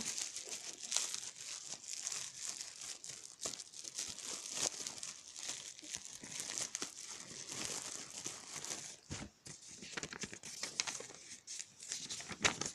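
Crinkling plastic wrapping on a packaged box, made in China, being torn open from the side: continuous close, dense rustling and crackling with a few sharper tears, and no talking.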